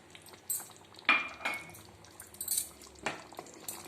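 Curd being stirred into mutton in a cooking pot: sparse clinks and scrapes of a metal spoon against the pot, with soft wet stirring sounds between, fairly quiet and close.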